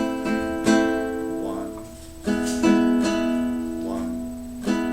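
Strummed guitar chords ring out in a slow pattern, several sustained strikes spaced across the clip with a harmonic, resonant tone and no talking.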